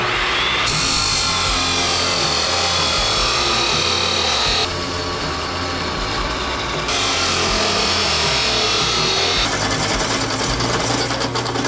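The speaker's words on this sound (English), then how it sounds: "time to do a whole lot of cutting and drilling" Power tools cutting and drilling metal cross kart A-arm parts in a workshop, loud and continuous, with the grinding tone shifting in sections as cuts start and stop.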